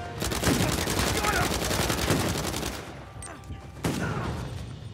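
Dense, rapid gunfire from a pirate-era video game set in Libertalia: a sustained fusillade of overlapping shots for about three seconds, a brief lull with scattered cracks, then another burst, loud and close.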